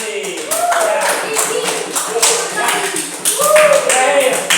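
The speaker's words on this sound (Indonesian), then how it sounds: "Tepuk tangan untuk Riki." Children clap in unison for a classmate at school, a short rhythmic burst of hand claps under singing or chanting voices in a classroom.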